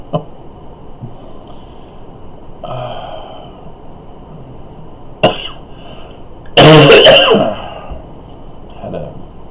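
A person with a bad cough gives a few short throat-clearing coughs, then a loud, harsh burst of coughing near the middle, recorded close and otherwise fairly quiet.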